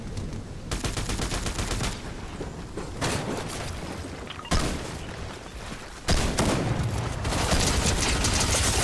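Rapid bursts of video game gunfire from a Fortnite boss fight, dense automatic fire with heavy booms, loud and nearly continuous throughout with sharp surges partway through.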